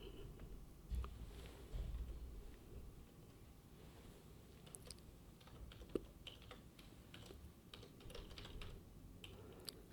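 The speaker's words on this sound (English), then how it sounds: "So I'm typing things here" Soft typing on a computer keyboard, a quiet irregular patter of key clicks with occasional louder taps, no voices.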